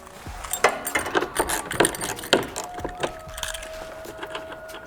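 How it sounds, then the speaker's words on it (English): Keys on a keychain fitted with a 10mm socket jangle and clink in several quick, close metallic bursts, followed by a quieter rattle and a faint steady tone near the end. "Samet sells these awesome keychains that have a 10mm socket or ratchet right on your keys"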